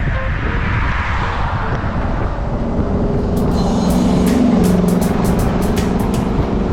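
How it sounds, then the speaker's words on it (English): A vehicle towing a horse trailer rolls past cyclists on a road, a loud continuous engine and tyre rumble with wind noise, steady and close throughout, no voices. "I saw that guy coming with his horse trailer in the mirror"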